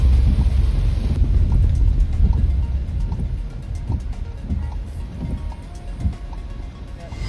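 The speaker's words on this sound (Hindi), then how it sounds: "बारिश इतनी तेज़ हो गई है, मैं क्या बताऊँ। बाहर का व्यू दिखाता हूँ, इतनी तेज़ बारिश हो रही है" Heavy monsoon rain pours down on a Skoda Kushaq driving on the Delhi-Meerut Expressway. It makes a loud, steady, rushing roar with low rumbling and no breaks.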